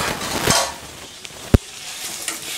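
Chopped tomatoes sautéing in a silver kadai, a soft sizzle with stirring scrapes and one sharp knock of the utensil against the pan, close and alone without talk.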